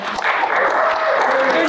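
An audience at a town hall meeting breaks into brief applause, a dense patter of clapping heard together with a speaker's voice.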